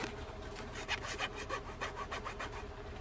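A textured old card is rubbed up close, making faint dry scratchy strokes in a steady back-and-forth rhythm with no voices.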